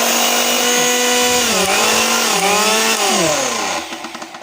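A Vision electric blender runs with a loud, close motor whine whose pitch dips and rises as the load shifts, then winds down and stops, leaving a few fading rattles.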